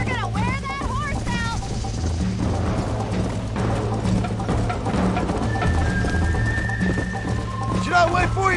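A horse galloping in the video game Red Dead Redemption, with steady hoofbeats under a busy mix of music and game ambience, while voices talk over it.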